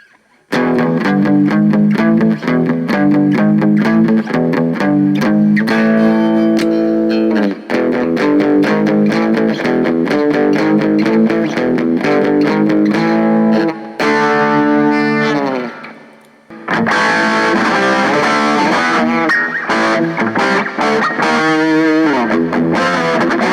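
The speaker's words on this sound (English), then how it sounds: "I'm gonna crank the gain up a little more crunch on you." Electric guitar with crunchy distortion through a Boss Katana Mini X amp, gain turned up, plays a continuous riff, loud and close, with a brief drop-out near the end before resuming.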